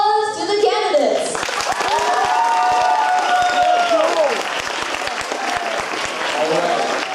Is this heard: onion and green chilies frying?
no